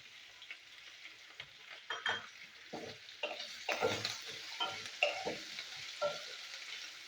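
Potatoes fry in oil in a pan for ucha bori, a steady soft sizzle joined by repeated scraping stirs that come in irregular bursts, close but fairly quiet, with no voices.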